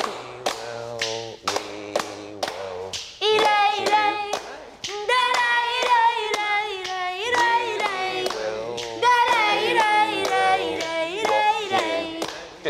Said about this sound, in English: mixed with palmas, flamenco's distinctive hand claps and stamps